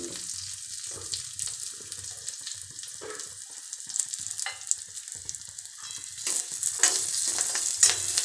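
Onions and fresh fenugreek leaves fry in a little oil, a soft, steady sizzle with occasional stirring scrapes and a rushing, water-like wash of sound swelling toward the end.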